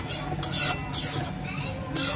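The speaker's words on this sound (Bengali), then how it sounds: "এই মাংসের সাথে ভালো করে কষিয়ে নিচ্ছি।" Chicken pieces are stirred and fried with spices in a home kitchen pan, with a spatula scraping and clinking against the metal in steady strokes over a soft sizzle.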